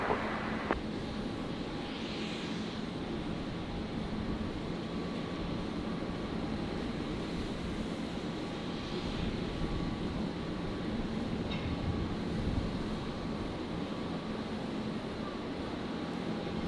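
A Qantas jet taking off from runway 19 right at Brisbane Airport, heard as a steady, broad engine roar at moderate distance that holds throughout without a clear rise or fade, with faint tonal hums in the background.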